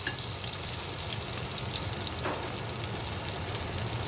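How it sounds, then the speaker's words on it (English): Butter and fat melting and bubbling in a pan before a pounded pork chop goes in, an even, close fizzing sizzle with a faint low hum underneath and no talking. "Once your butter starts to bubble, you do not want it to brown."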